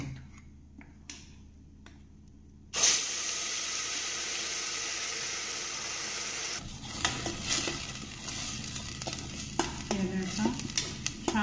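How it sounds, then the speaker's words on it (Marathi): Ground onion, tomato, ginger, chili, garlic and coriander masala hits hot oil in a pan with a sudden loud sizzle that continues steadily, joined later by stirring scrapes and clinks, with no talking. "याला छान परतून घेऊया 1 ते 2 मिनिटं।"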